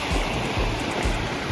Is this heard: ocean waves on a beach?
yes